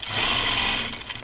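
Sewing machine stitching the side seam of pajama bottoms, a loud close steady run of rapid needle hum lasting about a second before slowing and stopping.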